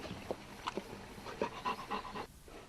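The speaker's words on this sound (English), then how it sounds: "this is my lovable dog, Prince." A dog panting in the Welsh countryside, quick breathy huffs in a loose rhythm, close and soft with no talk.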